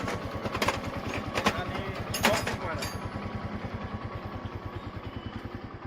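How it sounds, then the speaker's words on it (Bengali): A motorcycle engine fitted to an auto-rickshaw idles with a steady, rapid putter close by, while a voice talks over the first half. "শহরে ইঞ্জিন সেটিং করা হয়েছে, মোটামুটি ভালোই চলে।"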